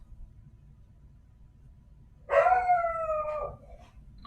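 A dog lets out a single drawn-out howl about a second long, sliding in pitch over a faint low background hum, fairly close and clear with no talking.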